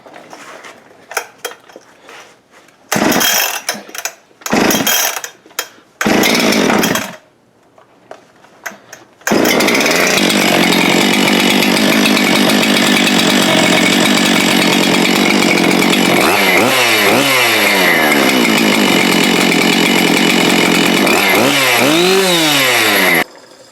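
A Farmertec 660 chainsaw sputters with a few short bursts, then catches and roars loudly and steadily, its pitch revving up and down several times near the end.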